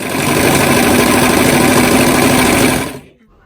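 A sewing machine stitches the side seams of reversible children's swim bottoms, running with a loud, steady, close-up whir for about three seconds before stopping abruptly.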